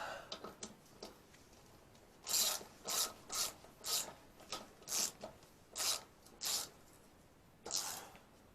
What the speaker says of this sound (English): I just like to use an old-fashioned ratchet, and I can actually know how tight I got everything.